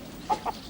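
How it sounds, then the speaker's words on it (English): Two short soft clucks from chickens, close by and fairly quiet, spaced about a fifth of a second apart with no voices. "Come on, little chickens."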